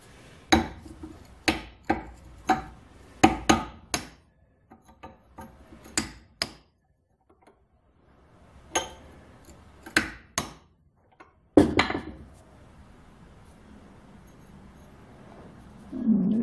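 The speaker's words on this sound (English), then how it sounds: "The sledgehammer on this, a small sledge." A small sledgehammer strikes rebar being shaped into a heavy-duty screwdriver. Sharp metallic blows come in irregular bursts of several hits separated by pauses, each impact clear and close.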